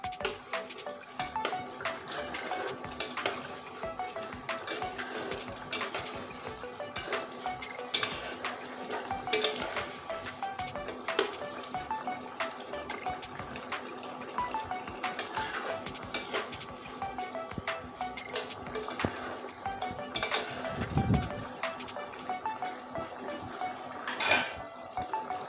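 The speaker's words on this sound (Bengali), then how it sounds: "এবার এই তরকারিটা নেড়ে নিচ্ছি" A spoon scrapes and clinks against a metal pot while an eggplant and fish curry is stirred, with repeated sharp metallic taps over a soft bubbling simmer, steady and close for a long stretch.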